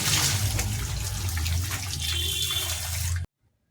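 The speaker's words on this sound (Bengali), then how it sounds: "আমি জল কচুটাকে ভালো করে ধুয়ে নিচ্ছি।" Running tap water splashes steadily as taro is rinsed under a kitchen faucet, a close and continuous wash that cuts off abruptly at the end.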